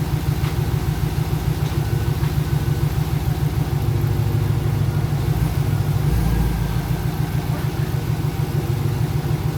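A Pontiac GTO project car idles as it backs out of a garage, with a deep, lumpy engine burble pulsing steadily and loudly up close, swelling briefly partway through, with no talking.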